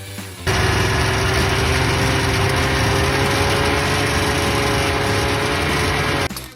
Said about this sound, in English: the Subaru 360 had a two-stroke engine that made just 25 horsepower